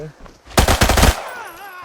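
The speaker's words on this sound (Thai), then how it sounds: "มีเสียงปืนยิงออกมาแล้วฮะลำบากแล้วอีกทีนี้" A close, loud burst of rapid automatic gunfire cracks out for about half a second in the shooter game Arena Breakout. A faint ringing tail and quieter game ambience follow.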